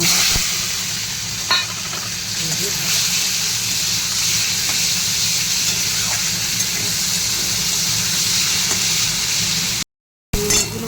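Washed prawns frying in hot oil in a pan, a loud steady hiss and sizzle with scattered pops and stirring clatter, close up, briefly cutting out near the end.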